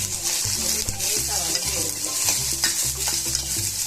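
Onion, tamarind and garlic sautéing for a chutney, a continuous close sizzle with regular stirring scrapes of a spoon in the pan.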